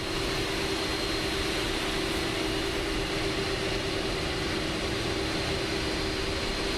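Steady, even roar of Airbus A330-200 jet engines building thrust in Microsoft Flight Simulator 2024, a broad continuous rush with a constant high whine, holding level and unbroken with no talk.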